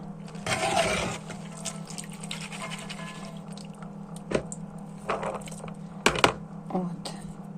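Water trickles and splashes into a pot of elderberries for jam in uneven bursts, with a few clinks and a steady low hum in the background.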